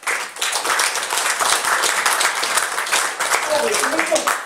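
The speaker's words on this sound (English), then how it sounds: "Give a big round of applause." Dense applause from a stage show audience in Wolverhampton, steady clapping sustained for several seconds with a few voices mixed in.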